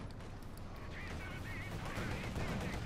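Distant gunfire and battle noise from a Company of Heroes 2 match, with Soviet forces and a T-70 tank engaging German units. The bursts sound steady and muffled, with scattered higher chirps, and no speech is heard.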